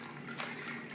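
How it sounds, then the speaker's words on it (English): Sparged wort from an all-grain home brew runs into a boiling pot, a soft, faint, continuous trickle of liquid that lasts only a second. "So I begin to sparge the wort, or the water with the grain,"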